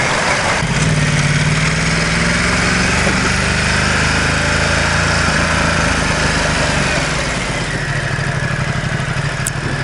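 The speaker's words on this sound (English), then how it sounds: "I do love the sound of the engine, like when it spools down." Ducati XDiavel motorcycle engine running loud and close, a steady idle-like drone with a faint shift in pitch as it settles, no voices over it.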